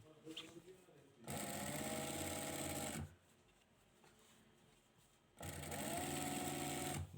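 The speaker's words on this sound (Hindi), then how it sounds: "तो बिल्कुल कपड़े को नीचे ले जाएं और फिर सिलाई को करें" A sewing machine stitches cloth in two loud, steady bursts of rapid whirring, with a pause between them where someone talks quietly.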